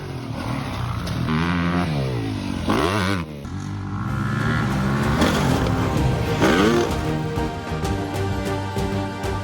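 Dirt bike engines rev and whine with pitch sweeps as the motorcycles approach for a jump, loud and close, the roar rising and falling continuously.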